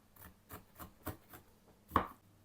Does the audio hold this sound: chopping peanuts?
yes